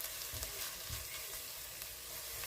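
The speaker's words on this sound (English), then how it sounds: "so they are nicely sizzling up. You can hear them." Onions sizzle steadily in a hot pan, a constant crackling hiss with soft low thumps, fairly quiet and close.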